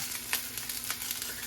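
Spring onions dropped into hot oil tempering and frying, a close, continuous crackling sizzle with sharp pops scattered through a short burst, no voices.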